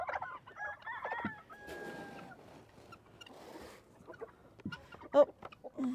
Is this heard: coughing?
no